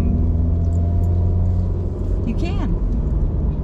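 A car drives along the Lake Superior coastline between Calumet and Eagle Harbor, Michigan, with a steady, loud road rumble and engine drone as a person talks briefly over it.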